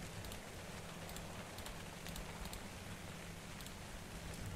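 Rain falling in ARK: Survival Evolved, a steady quiet hiss of drops with faint scattered ticks, continuous throughout and fairly soft in the background.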